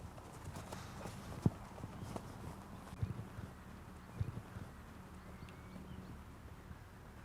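A horse trots in a riding lesson, its hooves clip-clopping in a light, steady rhythm against a soft wind-like background.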